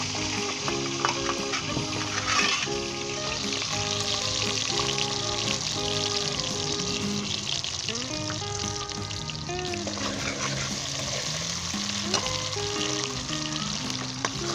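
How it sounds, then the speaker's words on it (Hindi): Onion and ginger fry in a pan for beef keema, a soft continuous sizzle with occasional faint stirring ticks, heard under background music. "ये अदरक और जिंजर हम इसके साथ शामिल करेंगे इसे भूनेंगे।"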